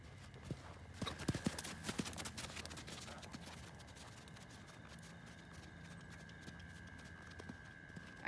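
A horse canters in an outdoor arena, hooves giving a steady rhythmic clip-clop at moderate distance over faint background noise and a steady tone.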